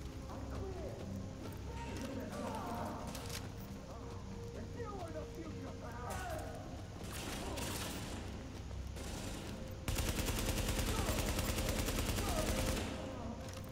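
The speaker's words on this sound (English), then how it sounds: "They're shooting at us." Gunfire from a firefight in the video game Tom Clancy's The Division, in a subway morgue: scattered shots and bursts crackle under game ambience and voices, growing louder and denser near the end.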